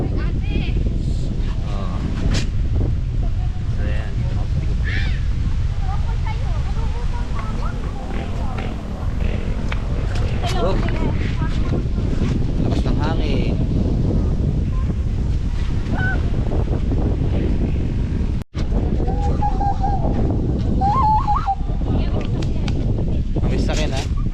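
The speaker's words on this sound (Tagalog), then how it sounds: "lakas ng hangin no" Strong wind roars and buffets the microphone in a constant low rumble at a lake in the Philippines, with faint voices now and then underneath.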